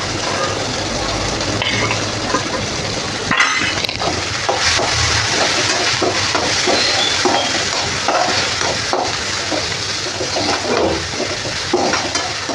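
Finely chopped tomato is tipped into a hot pan and stirred while cooking for a cabbage bhaji with onion and potato. Loud steady sizzling comes with scraping stir strokes and pan clatter, and a voice speaks faintly over it.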